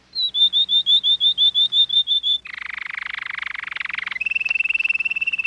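A cartoon character's voice from an early-1960s cartoon imitates a canary with a rapid series of high whistled chirps, then a buzzing trill and a fast warbling run, close and loud.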